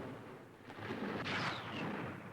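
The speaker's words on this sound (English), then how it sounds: "Suddenly, an explosion on the afterdeck." A bomb explodes on the afterdeck of an aircraft carrier under air attack, a loud, rumbling blast that swells in the middle and rolls on amid continuous roaring noise.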